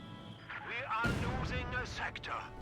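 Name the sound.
mortar fire in Company of Heroes 2 video game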